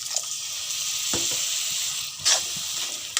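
Water poured into a pan of frying spices and roasted gram flour for a mushroom and pea curry sets off a steady sizzle, with a few sharp spatters and stirring clicks.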